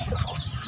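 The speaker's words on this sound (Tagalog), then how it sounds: "kakatapos ko lang magpakain ng mga manok" Chickens on a backyard farm in the Philippines cluck softly just after feeding, with a low, steady murmur of several birds close by and no voices.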